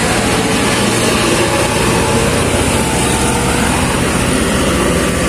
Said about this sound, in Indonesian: untuk suara mesinnya halus